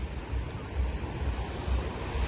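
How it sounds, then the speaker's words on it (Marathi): Low, steady surf roar from large ocean waves breaking at a beach, continuous and moderately loud with a rolling swell and some wind rush, no voices. "किती मोठी मोठी येतात बघा लाटा"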